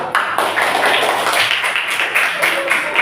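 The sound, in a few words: audience clapping for group 3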